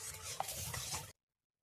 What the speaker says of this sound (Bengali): এভাবে নাড়তে হবে যেন তলায় না বসে যায়